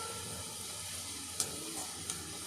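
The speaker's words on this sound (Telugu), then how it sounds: "ఆనియన్స్ బాగా ఫ్రై అవనిద్దాం రెడ్డిష్గా" Onions fry in oil in a pan for a mutton do pyaza, making a faint, steady sizzling hiss with a couple of soft ticks, no voices.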